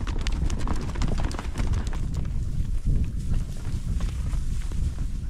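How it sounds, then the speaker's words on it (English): Horses walk along a trail, their hooves clip-clopping in a busy, overlapping rhythm. The sound is fairly close, with faint outdoor noise behind it. "We're back on the trail, back on the run, on horses that never break a sweat"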